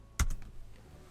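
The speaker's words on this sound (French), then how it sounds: "je confirme ce titre en appuyant sur la touche entrée du clavier" A single sharp click of the Enter key on a computer keyboard, close and distinct, followed by a faint second tap and quiet room tone.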